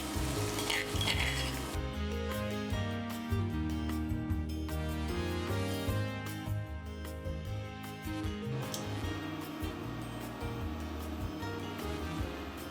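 Chopped herbs and garlic fry in a hot pan for Georgian chanakhi, a steady close sizzle running throughout over a bed of background music.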